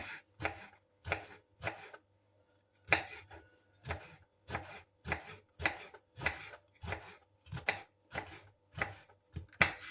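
A knife chops eggplant steadily on a board, brisk evenly spaced strikes with one short pause, close and crisp.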